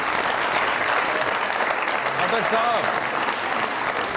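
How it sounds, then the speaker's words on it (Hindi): A studio audience at a Pakistani comedy talk show applauds in a thick, steady roar of clapping, with a voice briefly speaking over it. "बहुत सारी तालियां मैडम के लिए"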